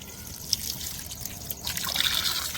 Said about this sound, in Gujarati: સૌ પ્રથમ તો બટાકા ધોઈ નાખીએ આપણે